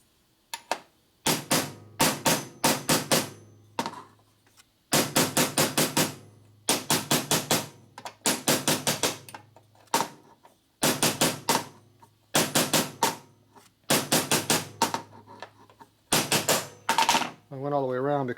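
Heavy hammer blows strike a buckled part from a 1977 Harley-Davidson XL/XR Sportster Ironhead street tracker, laid on the side of a workbench. The blows come in quick bursts of ringing metallic strikes separated by short pauses, close and loud.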